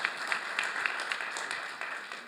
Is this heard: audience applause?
yes